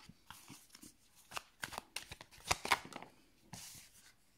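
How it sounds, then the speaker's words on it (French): Oracle cards being cut and shuffled during a tarot reading, with soft papery riffles and taps in a quick irregular series, close and fairly quiet, with no talking. "J'avais envie de faire une coupe avant."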